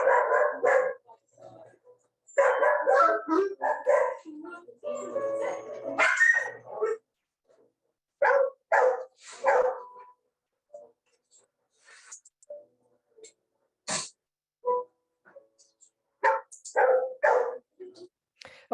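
Shelter dogs in their home cage bark and yip in short bursts during target training, with whimpers and scattered clicks in between. A person talks nearby at times.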